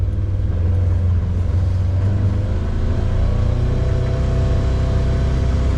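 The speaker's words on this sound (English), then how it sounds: "let's take her out" A Polaris Ranger XP900 utility vehicle rumbles along with a steady mid-pitched engine drone, nearby and continuous, with a slight rise in revs early on and no talk.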